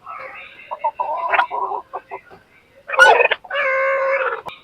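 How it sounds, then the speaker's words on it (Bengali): Backyard desi hens and roosters clucking and calling out in agitated bursts, loud and close, with short cackles followed by a longer sustained squawk near the end. "এই যে ওকে নিয়ে যাওয়ার কারণে বাকিগুলো কিভাবে ডাকাডাকি করতেছে দেখেন"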